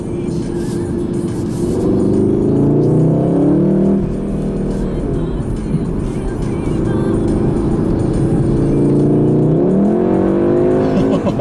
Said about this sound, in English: So right, we're in sport mode now. As you can see, it's gone up to 3000 RPM.